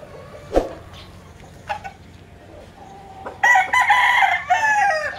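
Gamefowl rooster crowing once, loud and close, in a bright harmonic call lasting about two seconds after a few quieter clucks and outdoor background sounds.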